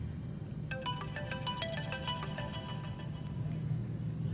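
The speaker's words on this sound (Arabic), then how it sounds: "تليفونك بيرن أهو، ممكن تردي وممكن ما ترديش." A mobile phone ringtone plays a repeating melodic pattern of bright tones for several seconds at moderate level over a low background hum, with no talk.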